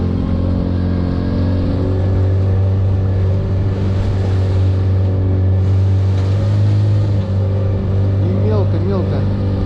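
An outboard motorboat engine drones loud and steady as the boat pushes through drifting, half-soft ice floes on a river, with a constant low rumble throughout.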